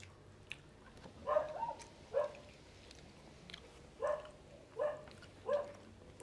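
A dog barks in a rural backyard during outdoor cooking of a Filipino breakfast: about five short, fairly faint woofs spaced a second or so apart over a quiet background.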